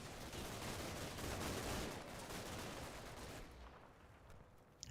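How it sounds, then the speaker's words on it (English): Full-auto gunfire in a firefight in the Combat Mission video game, a continuous dense crackle of automatic fire, fairly faint and distant, thinning out toward the end. "So they're in a full auto firefight there."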